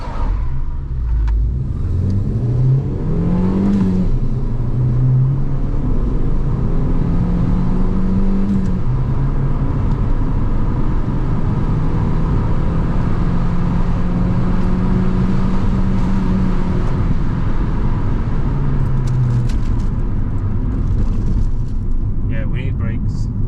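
A blue Fiat 500 with an Abarth engine swap and coilovers driving on the road, a loud steady engine drone from inside the cabin with rising and falling revs, while someone talks over it.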